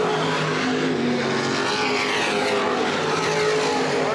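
Open-wheel modified race car engines roaring continuously at high revs on a dirt oval track, a loud sustained whine with shifting pitch as cars pass.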